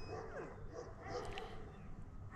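A dog gives short yips and whimpering barks, a few quick close-up calls over a low rumbling background in a brief burst.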